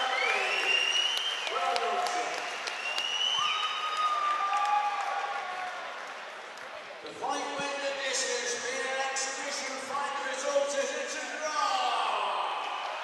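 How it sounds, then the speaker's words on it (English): Applause and crowd noise fill a large room, steady and moderately loud, with cheering voices rising in the second half. "Big round of applause."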